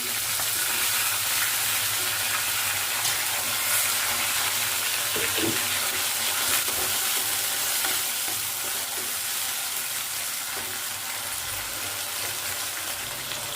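Chopped tomatoes sizzle and fry in a hot pan while avalakki upma is cooked for breakfast, a steady close hiss with occasional stirring scrapes and no voices.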